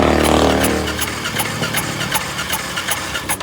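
Motorcycle with a fuel-injection fault cranked on its push-button starter: a loud starter whir and engine churn at first, fading into a rapid ticking rhythm, close by.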